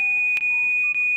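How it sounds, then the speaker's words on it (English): Alarm beeping in the video game Charade Maniacs, a steady high electronic tone with two short sharp clicks cutting through it, clean and alone with no voices. "Then I heard an alarm."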